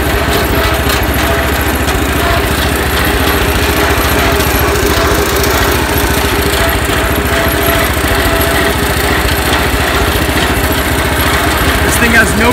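A 1978 IH Cub Cadet 1000 garden tractor engine, revived after sitting twenty years, runs loudly and steadily throughout with a rough, chugging small-engine drone.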